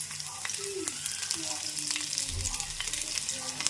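Garlic cloves dropped into hot oil for a tempering, crackling and sizzling steadily and close up, with faint stirring sounds underneath.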